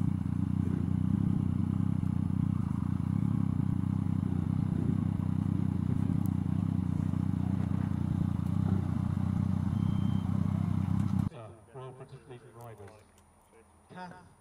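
Many motorcycles idle and rumble together at a memorial ride, a dense continuous engine roar for about eleven seconds before it cuts off and a voice talks briefly.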